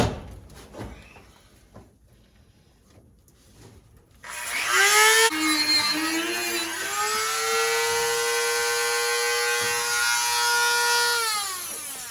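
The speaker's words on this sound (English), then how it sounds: "This is an 80 grit little drum wheel. Let's try that." An 80 grit drum sanding wheel on a power tool spins up with a rising whine, then grinds steadily and loudly against a rusty 1940 Ford car door after a few quiet, scuffling seconds.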